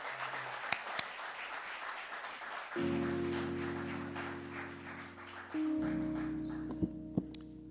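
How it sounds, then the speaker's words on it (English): Applause for a speaker at a community forum, a soft spread of clapping with a low sustained tone entering partway through and a couple of sharp knocks near the end. "Give Ron Daniels a round of applause."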